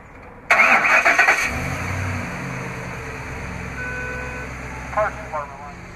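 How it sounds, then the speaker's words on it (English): A 2012 Ford F-250 Lariat Super Duty crew cab FX4 4x4 starts by remote start. A loud crank-and-catch burst settles into a steady idle, and a couple of faint chirps follow near the end. "Then double press the remote start button on the key fob."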